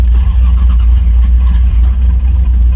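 A supercharged Corvette engine cranks and catches on its first start, jump-started with cables from a Caprice and a jump pack, giving a loud, steady low rumble with rough, uneven pulses throughout.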